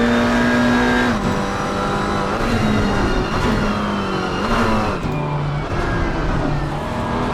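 A group of three GT4 race cars at Zolder circuit, engines loud and close, droning continuously as the pitch climbs and drops through repeated gear shifts while the cars run nose to tail.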